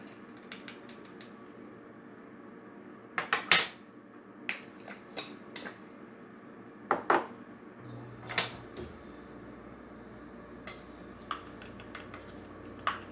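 Tuscan chicken burger seasoning stirred into raw chicken pieces in a bowl, giving scattered soft clinks and scrapes of a utensil, a few sharper knocks spaced irregularly over a quiet background.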